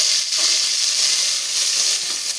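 Chicken fries in a pan with a steady, loud hiss of sizzling oil, continuous and close, with no voices over it.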